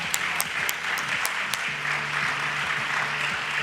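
A conference audience at a business event applauds with sustained, dense clapping and a few sharper claps near the start, over a low droning background hum.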